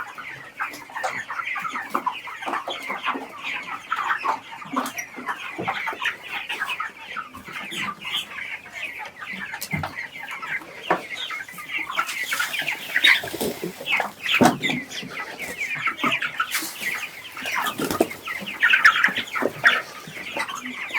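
Broiler chickens crowding for feed on a Ghanaian poultry farm cluck and squawk continuously in a dense, busy chorus, close by and loud, with bursts of frantic flapping and scrabbling and no talk.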